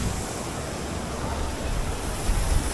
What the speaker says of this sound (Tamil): இப்போ எனக்கு பின்னாடி தான் பார்த்தீங்கன்னா இரைச்சல் பாறை வாட்டர் ஃபால்ஸ்.